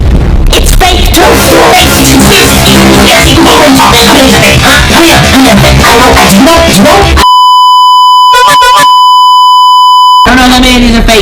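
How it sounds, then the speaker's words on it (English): An Emergency Alert System alarm tone sounds as a harsh, steady electronic beep for about three seconds, briefly broken by a burst of noise, after a stretch of loud, distorted, clipped noise. "Well, you want to know what else? The EAS alarm. That's fake too."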